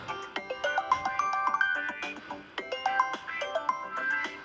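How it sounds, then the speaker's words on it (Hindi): Mobile phone ringtone for an incoming call, relayed over Bluetooth on a Hero Xtreme 125R motorcycle, plays a bright repeating melodic phrase of short tones, two cycles close and clear with no talk over it. "मेरा फ़ोन यहाँ रिंग होने लगा है"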